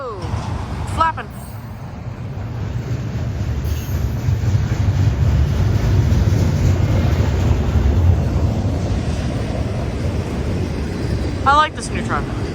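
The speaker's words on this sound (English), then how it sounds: "Quite a long train here." A long NS intermodal freight train rolls past with a loud, sustained rumble and clatter of wheels, with faint squeals, while people talk over the noise.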